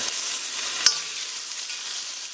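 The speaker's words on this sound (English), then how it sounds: "What I'm just going to do is add all that lovely lamb chops to the pot directly" Lamb chops browning in a hot pot give off a steady, close hiss of sizzling fat, with one brief sharp click partway through and no voices.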